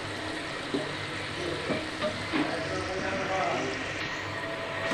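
Ripe mango fritters fry in hot oil as a steady, broadband sizzle, with occasional soft knocks and scrapes from the fritters being turned in the pan, fairly close and continuous throughout.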